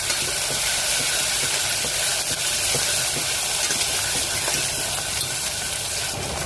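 Onion, tomato and green chillies fry in hot oil in a pan for poricha kulambu, giving a loud, steady sizzle and hiss with faint crackles throughout.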